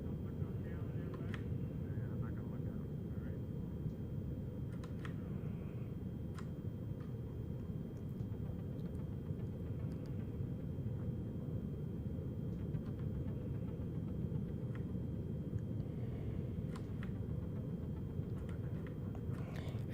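In the game Lunar Flight, a lunar lander's thruster engine gives a continuous low rumbling roar under steady thrust, with faint ticks and clicks over it.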